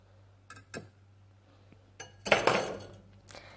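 A utensil mixes pancake dry ingredients, flour and baking powder, in a bowl, giving a few light clinks and then a short burst of scraping and tapping against the bowl, close and quiet with no talk.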